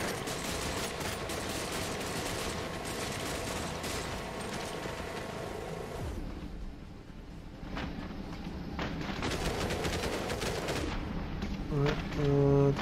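Rapid automatic gunfire crackles steadily in the Cepheus Protocol war game, dense bursts over battle ambience that briefly thin out before another loud volley and a few heavier thuds at the end.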